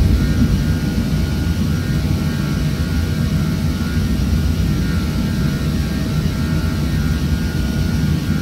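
Steady, loud jet engine roar from an Aerosoft Airbus A320 climbing after takeoff in Prepar3D, a constant broadband rumble that holds without letup.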